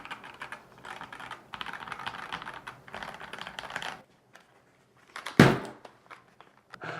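Typing on a smooth-feeling mechanical computer keyboard, a busy run of close key clacks in bursts, then a pause and a sharp loud thunk as the board is dropped and dents a table.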